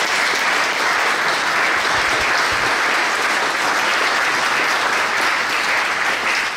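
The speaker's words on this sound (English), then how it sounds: "So let's give John another round of applause." An audience gives a sustained round of applause for John at a sports broadcast collection donation event, dense steady clapping filling the room from start to finish.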